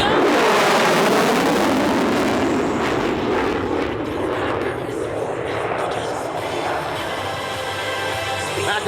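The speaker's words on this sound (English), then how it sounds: "Here it is, the Super Hornet high-speed pass." F/A-18F Super Hornet jet making a high-speed pass at the Bremerton air show, a loud roaring whoosh that is strongest at the start and slowly fades as the jet moves away, with a voice talking over it.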